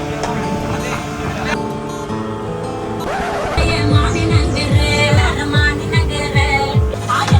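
A motor boat's engine chugs steadily on the backwaters near Kadamakkudy Island in Kochi, a loud rhythmic throb with water washing around it and someone talking over it.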